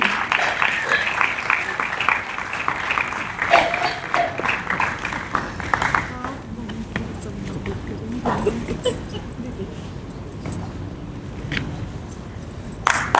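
Applause from an audience at a stage event honoring guests, steady clapping for the first half that thins out, with talking over the later part.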